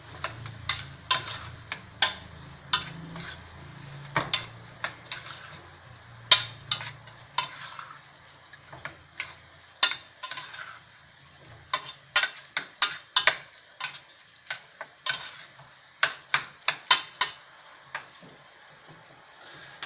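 A spoon stirs carrots and tomatoes together in a pan of lasagna bolognese sauce. It gives a long series of sharp, close scraping clicks in an irregular rhythm over a soft sizzle.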